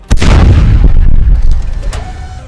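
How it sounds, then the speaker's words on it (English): A turret volley fires from a capital ship in the game Space Engineers, one loud, deep booming blast that rumbles and decays over about two seconds, followed by a fainter thud. "We'll use the turret on that one right there. We'll use these 4 on this one. So we'll go ahead and shoot 1 volley."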